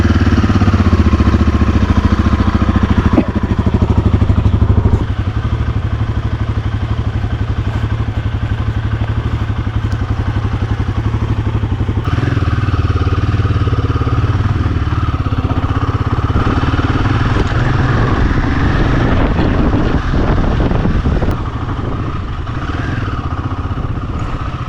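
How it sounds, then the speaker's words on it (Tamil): Royal Enfield Himalayan 450 motorcycle starting and running before a ride from Chennai along the ECR, a steady close engine drone with a shift in tone partway through, no talking over it. "வாங்க வண்டி ஸ்டார்ட் பண்ணுவோம்."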